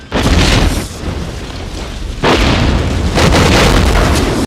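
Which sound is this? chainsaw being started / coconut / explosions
explosions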